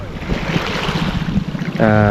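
Sea waves of the South China Sea off Isla Chica, Pagbilao, Quezon, a steady wash of surf with wind buffeting the microphone, joined near the end by a loud tonal hum.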